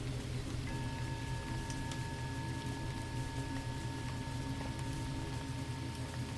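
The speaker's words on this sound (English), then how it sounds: "The rain is doing the work" Steady rain falling at night near a veranda, a dense even hiss with a faint tonal hum running beneath it and no voices.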